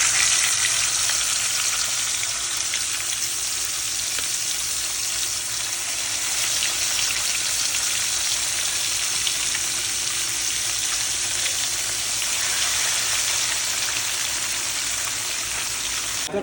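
Fish frying in a pan, a dense, continuous loud sizzle with a steady crackling hiss that holds unchanged throughout, no voices over it.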